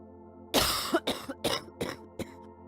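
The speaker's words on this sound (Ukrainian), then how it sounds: "Коли людина захворіла на туберкульоз, в неї сильний кашель" A series of harsh, heavy tuberculosis coughs, about five bursts in quick succession, close and loud, with no talking.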